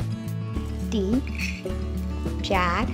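A spoon clinks against a pan as spoonfuls of sugar go into bottle gourd (dudhi) halwa. The light metallic taps and stirring are heard under steady talk.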